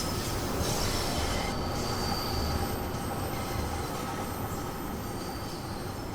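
A Bakerloo Line London Underground train runs steadily in Train Sim World 2, with a loud, continuous rumble of wheels and motors and faint squeals over the rails throughout.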